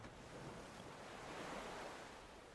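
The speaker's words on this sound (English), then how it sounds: "Do you hear the waves? Do you hear the ocean?" Ocean surf in a video game, a steady, faint wash of waves with soft wind-like hiss, swelling slightly midway, no voices.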